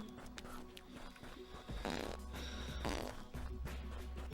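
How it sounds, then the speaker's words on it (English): A fart sounds while walking, short low bursts among footstep-like rustling, quiet and close. "I fart."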